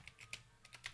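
Fingers tap quick, uneven keystrokes on a new computer keyboard, close up and fairly quiet, coming in two short bursts separated by a brief pause, with no voices.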